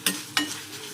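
Garlic frying in hot oil for a garlic lemon rice tempering, with two quick spatula scrapes against the pan over a soft, steady sizzle, close and fairly quiet.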